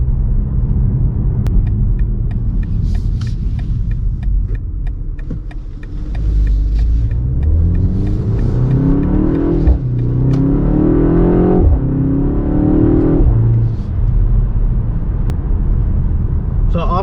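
A 2024 BMW X2 M35i under way, its engine and drivetrain droning loudly from the cabin with repeated rising revs through the gears, a steady road rumble beneath and a voice talking over it.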